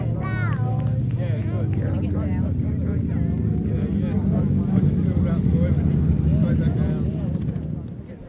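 A pack of 1000cc sidecar motorcycles roars past on a grasstrack during a championship race, a loud steady engine drone lasting several seconds before easing off, with a commentator talking over it.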